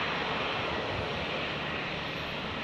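An aircraft landing at Brisbane International Airport gives off a steady, broad engine roar that holds level throughout, with no talk.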